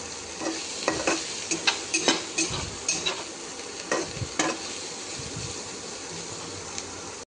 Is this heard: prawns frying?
yes